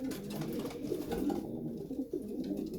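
Pigeons in a loft coo softly in low, rolling calls, faint and continuous, close by in a quiet space.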